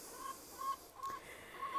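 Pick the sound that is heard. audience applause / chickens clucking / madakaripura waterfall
chickens clucking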